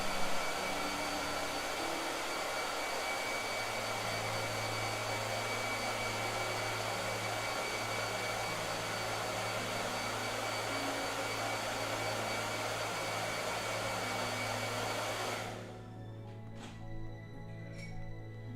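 A hair dryer blows steadily with a loud, even broadband whoosh for about fifteen seconds, then switches off, leaving a quiet room with faint small sounds.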